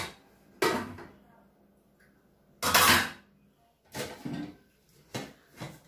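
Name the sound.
cooking pots being handled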